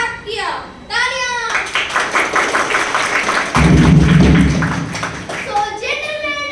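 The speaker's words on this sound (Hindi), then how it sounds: "तालियां।" A crowd claps and applauds at a gathering, steady loud clapping swelling toward the middle, with a voice and other voices speaking at the start and end.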